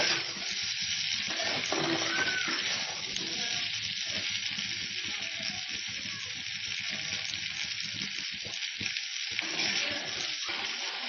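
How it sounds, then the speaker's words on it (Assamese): Chopped vegetables fry slowly in a pan over a low flame, producing a continuous soft sizzle with faint scraping and stirring underneath. "এনেকৈ কম জুইতে আপোনালোকে অলপ দেৰি ভাজিব।"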